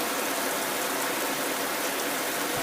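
Steady cartoon rain falls as a dense, even hiss, loud and continuous without breaks, with no voices over it.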